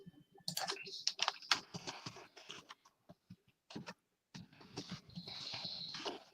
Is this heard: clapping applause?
no